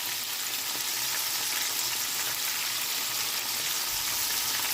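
Spotted bass fillets fry in hot oil, giving a steady, dense sizzle that stays loud and even throughout, with no voices.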